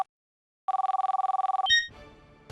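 Telephone at a police station rings in a steady electronic trill of about a dozen rapid pulses for a second, then cuts off into a short burst of clatter.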